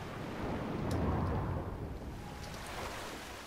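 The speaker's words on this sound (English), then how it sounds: "Behind the waterfall." A waterfall in the Darksiders II video game gives a steady, dense roaring rush that swells slightly and then settles, loud and continuous, with faint chimes above it.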